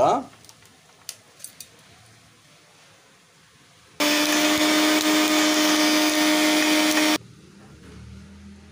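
A mixie grinds cooled roasted ingredients for a green amaranth (thotakura) chutney, a loud steady whirring roar that starts abruptly, runs about three seconds and stops, after a few light clinks.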